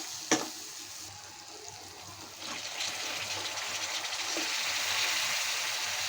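An onion and spice paste fries with bitter gourd and potato in oil in a home kitchen, a soft steady sizzle with a few clinks of stirring, fairly quiet and growing slightly louder toward the end.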